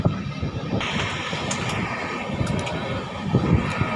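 A train rumbles along steadily with a continuous low roar and rattle, with occasional faint clacks and wind buffeting.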